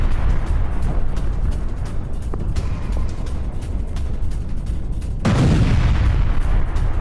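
Iranian missile attack on a gas plant in Haifa, heard as a loud, sustained roar and rumble with scattered sharp cracks and a heavy boom swelling near the end.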